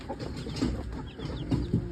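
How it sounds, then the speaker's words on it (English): Chickens and chicks being fed on a farm in the evening cluck and murmur close by, with a few louder squawks standing out near the end. "Feeding the chickens and the babies."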